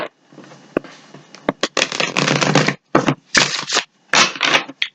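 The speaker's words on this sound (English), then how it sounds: "I just like to shuffle them" Tarot cards are riffled and shuffled up close in a series of crisp, rapid fluttering bursts separated by short pauses, loud and alone without talk.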